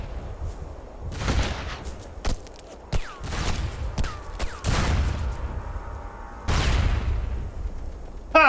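Video game gunfire from a SOCOM II online match, loud bursts and single shots spread through the clip, with a big explosion-like blast near the middle and another late burst, all dense and close.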